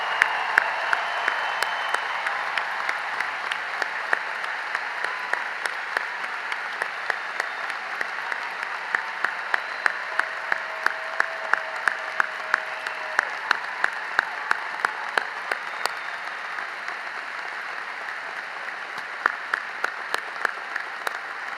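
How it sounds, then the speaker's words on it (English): Sustained audience applause at a spring commencement ceremony honoring veteran graduates, a large crowd clapping steadily for about twenty seconds with a constant dense wash and individual sharp claps standing out. "let's give these officers and all of our veteran graduates and all of their family and friends that have served in the military a round of applause"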